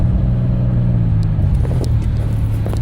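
A 2005 Chevy Impala pulls away in first gear with a low engine rumble that rises briefly, then settles while faint clicks and road noise continue.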